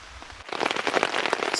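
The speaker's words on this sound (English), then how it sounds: "Still raining." Heavy rain pounds a tent tarp, starting abruptly after a brief lull and then drumming loud and dense with a crackling patter close by.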